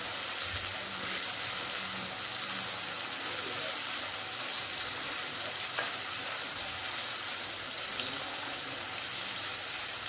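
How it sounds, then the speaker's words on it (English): Fish and yam slices frying on high heat in a pan of oil, giving a steady, dense crackling sizzle throughout, close and continuous with no talk over it. "What you want to do, guys, is to fry these as crisp as you can."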